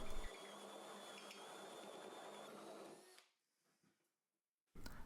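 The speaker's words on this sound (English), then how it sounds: "I've got this step drill that I'm going to use to drill out the bottom of this" A step drill bores out the bottom of a metal bracket for a studio camera stand, a steady whirring grind for about three seconds that stops, followed by near silence and a brief burst of noise at the end.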